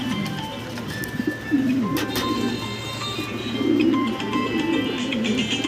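Fancy pigeons, a Stasser Blue Barless pair among them, coo in repeated low rolling phrases close by, with a steady low hum and faint chirps in the background.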